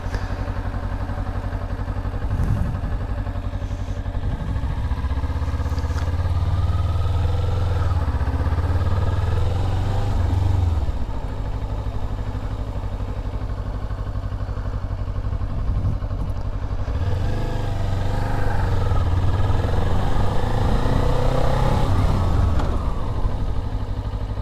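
Motorcycle engine running through a parking-lot emergency braking drill with anti-lock brakes, roughly 20 mph, the engine note rising and dropping twice with mechanical clatter, steady and fairly close.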